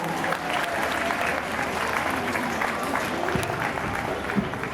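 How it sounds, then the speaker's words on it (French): A crowd at an equestrian sidesaddle handling competition applauds the first rider, a continuous loud spread of clapping, fairly close and sustained, with faint talk mixed underneath. "applaudissez la plateforme"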